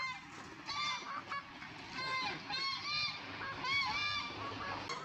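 Ducks nearby give a run of loud, nasal, honking quacks, calling again and again over steady outdoor background noise.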